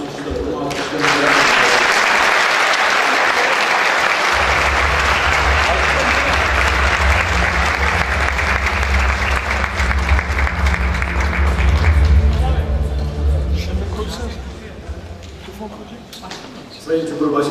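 An audience at a tourism summit applauds in a dense, sustained burst of clapping that holds steady for over ten seconds before thinning out, with a speaker's amplified voice starting in over it near the end.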